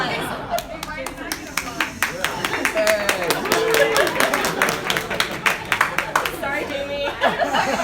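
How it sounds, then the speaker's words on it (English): An audience at a business talk breaks into scattered, lively clapping mixed with chatter and light laughter, the claps sharp and fairly close. "Oh, applause."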